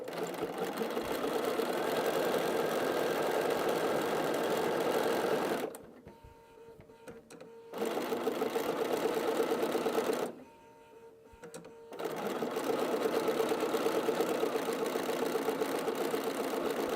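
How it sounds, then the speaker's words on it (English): A sewing machine stitches quilt seams in steady, fast bursts, stopping twice for about two seconds each before whirring back up, close and loud. "Back to the sewing machine."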